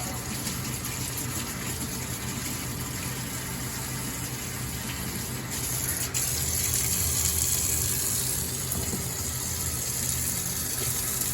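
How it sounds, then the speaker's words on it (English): Hot water pours from a kitchen tap into a sink in a steady, continuous gush, close and even throughout, with a slight swell partway through and no talk. "I'm going to run hot water in the sink."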